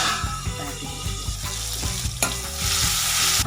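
Mustard seeds, cumin, dried red chillies and asafoetida crackle and sizzle in hot oil in a pan for a Kathiyawadi green onion dish, with steady frying hiss, spluttering pops and a spoon stirring, loud and close with no talking.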